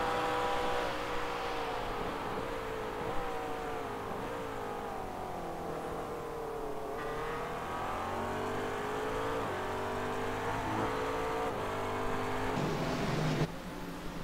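Engines of GT3 race cars, McLarens and a Mercedes, at Daytona in the iRacing sim, holding a continuous high whine whose pitch sweeps down then climbs again, loud throughout with a sudden change near the end.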